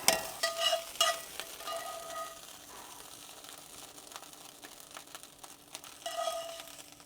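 Ground meat sizzling in a pan while a utensil breaks it up, giving scraping and crackling bursts up close that are busiest at the start and near the end, over a steady frying hiss.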